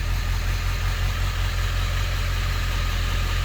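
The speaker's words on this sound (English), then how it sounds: "Oh, we got that idle up feature on the Ford. Oh, it sounds so good." A Ford engine idles with its idle-up feature engaged, giving a loud, close, steady low rumble with an even throb. It runs unbroken for a few seconds, with no one speaking.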